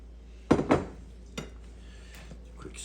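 Beans tipped into a braising pot alongside lamb neck, mushrooms and garlic make two quick clattering knocks close up, then a lighter tap and faint rustles against a quiet kitchen background.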